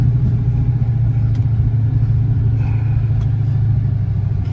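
All-wheel-drive Mopar car engine running roughly at idle, a steady close low hum with an uneven, lumpy texture and a few faint clicks on top.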